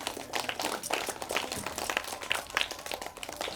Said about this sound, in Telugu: డాన్స్ మేడం టీచర్ త్రిష గారికి ఒకసారి క్లాప్స్ అవుతాం